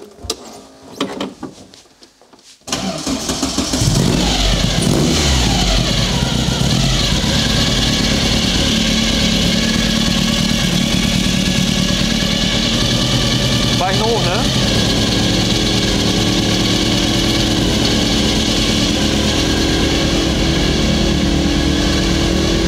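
Porsche 356 Speedster replica engine, quiet at first before it fires up into a loud, steady idle and then a sustained revving drone that holds up close for the rest of the run, with people talking over it.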